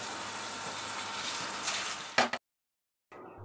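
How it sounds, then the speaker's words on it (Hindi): Rice fries in hot oil in a pan on low heat for pullao, giving a close, steady sizzle that swells briefly, then cuts to silence before a softer hiss resumes. "अब चावल डाल के हम आधा मिनट इसे थोड़ा सा चलाएंगे ऑयल में"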